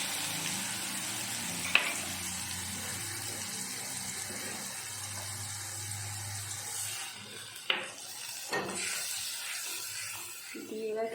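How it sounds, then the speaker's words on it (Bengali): Ground spices mixed with water are poured into onions browned in hot oil, setting off a steady close sizzle and hiss, broken by a few clanks of a utensil against the pan. "এবার আমি ওর মধ্যে এই গুঁড়ো মশলাগুলো জল দিয়ে গুলে নিয়েছি, সেটা এবার ঢেলে দেবো।"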